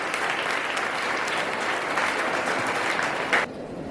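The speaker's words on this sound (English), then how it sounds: "we give a big round of applause for Samman Singh" School assembly audience at Carmel Convent school applauding a student, steady crowded clapping that holds evenly for several seconds before cutting off sharply near the end.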